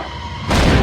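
A single loud gunshot blast in an action film bursts in abruptly halfway through, a sharp, full-bodied boom over a low background hum.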